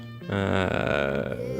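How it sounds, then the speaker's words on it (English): A single long, loud, voiced burp with a rumbling low tone, lasting over a second before tapering off. "burps"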